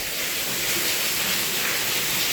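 Steady rain falls outdoors in Ghana, a dense, even hiss of drops holding at a constant level throughout with no voices over it.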